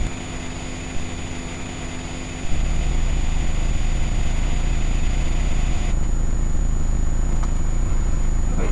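A document scanner with paper stuck inside gives off a steady mechanical whirring and grinding drone. A lower rumble drops away after a few seconds, then the motor noise carries on evenly at close range.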